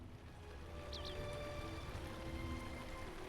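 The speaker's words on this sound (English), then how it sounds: "That is pouring rain right now." Steady, dense rain hissing and pattering throughout at an abandoned campsite in Lord of the Rings Online, with a faint high chirp briefly near the start.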